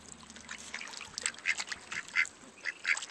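Ducks at a pond give short, repeated quacks in irregular bursts, fairly close and alone without speech, over a faint outdoor background.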